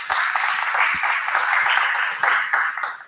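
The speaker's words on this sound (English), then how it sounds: "A big round of applause, please" Conference hall audience at a haematology conference applauding a speaker, a dense continuous wash of clapping that holds steady for about three seconds with a few sharper individual claps standing out.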